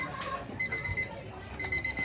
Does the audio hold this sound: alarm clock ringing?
yes